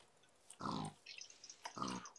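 Pigs in the video game Minecraft give two short, close grunts about a second apart against a quiet background.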